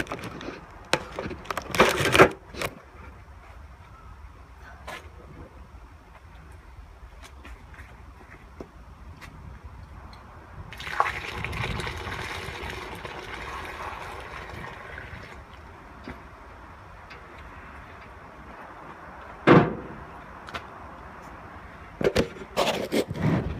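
Homemade laundry soap mixture poured into a container, a wet splashing pour swelling for several seconds in the middle, framed by sharp knocks and clatter from handling the container.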